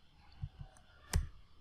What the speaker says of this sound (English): If you want to run previous command, you have to use up arrow in your keyboard.